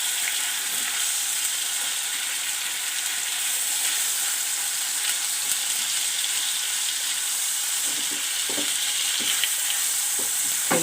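Minced keema sizzles steadily in a pan for a naan filling, a dense, continuous bright hiss with occasional small pops and stirring scrapes toward the end, close and loud with no talk.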